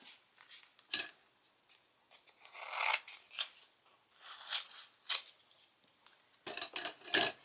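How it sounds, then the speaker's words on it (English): Scissors cutting a piece of cardstock to size, a series of short close snips and sliding rasps with quiet gaps between them, fairly faint and without voices. "then you place the piece of cardstock in there that you want to have the sticky on, and then you cut it to size."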